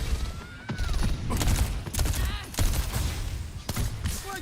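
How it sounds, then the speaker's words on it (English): Pharah's rocket barrage in Overwatch sounds as a dense, continuous volley of rapid blasts and whooshes. It stays loud throughout, with faint game voices in the background. "Rocket barrage incoming."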